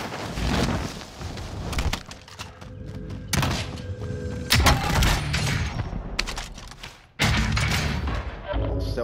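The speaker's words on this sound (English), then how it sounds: "Whoa! Getting sniped." Sniper gunfire in Call of Duty: Modern Warfare, several sharp loud shots and impacts at irregular intervals amid game noise.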